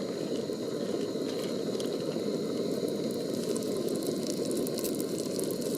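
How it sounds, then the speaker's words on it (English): Bacon heating in a pan at a camp breakfast in the Boundary Waters: a steady, close, dense sizzle and bubbling crackle throughout, with no voices. "just kind of heat up the bacon. I don't want to get it too crispy."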